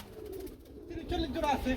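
Pigeons at a pigeon farm coo softly in low rolling calls, the cooing growing clearer in the second half, with a person speaking over it.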